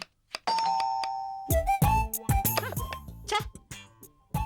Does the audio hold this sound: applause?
no